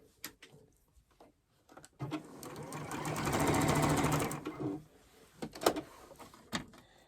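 Sewing machine stitching the binding onto a quilt, a steady close run of several seconds with short mechanical clicks and handling sounds before and after.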